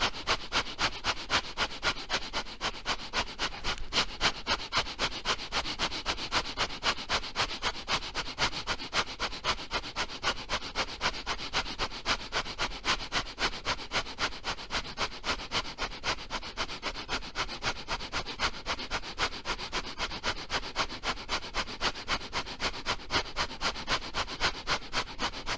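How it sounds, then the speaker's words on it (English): Kundalini yoga breath of fire: fast, steady, rhythmic nasal breathing that pumps without pause for the whole stretch, close and loud, with no talk. "And begin the breath of fire."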